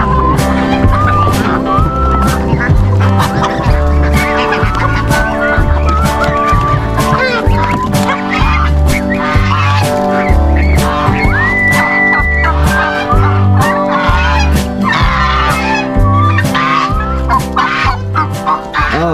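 Turkeys and geese leave a farmyard coop, calling and clucking repeatedly in a loud, busy chorus of overlapping honks and gobbles that continues without pause throughout.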